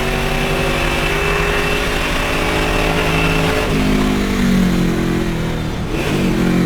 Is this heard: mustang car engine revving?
yes